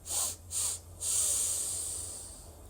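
Three quick, sharp sniffs through the nose in a row, followed by a longer steady inhale, close and soft.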